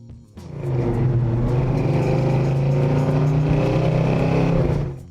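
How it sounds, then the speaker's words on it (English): A 1968 Dodge Dart GTS with a 383 cubic inch big-block V8 fires up and holds a loud, deep, steady rumble close by for several seconds before cutting off, with no talking. "The 1968 Dodge Dart GTS 383 comes with a big block 383 cubic inch V8 engine that delivers strong power and a deep, aggressive sound."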